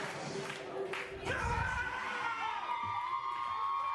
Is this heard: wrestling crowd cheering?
yes